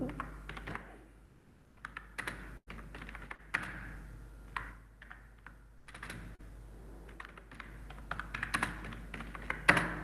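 Typing on a computer keyboard, close and fairly quiet, with irregular bursts of key taps and brief pauses between words, no talk.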